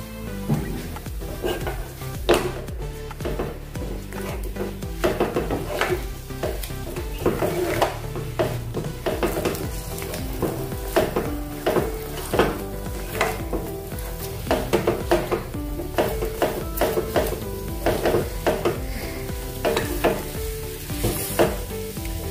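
A spoon stirs a thick semolina sweet cooking in ghee in a pan, with rhythmic scraping strokes over a steady sizzle, close and fairly loud.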